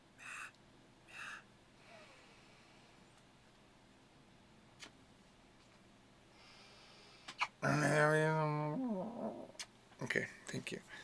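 Yuki, a cat who never purrs or meows, protests being held with one loud, drawn-out, whining cry close by, bending down in pitch as it fades. Faint short huffs come before it and a few brief scuffs follow.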